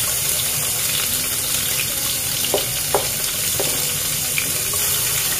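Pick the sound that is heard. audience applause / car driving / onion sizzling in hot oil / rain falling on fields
onion sizzling in hot oil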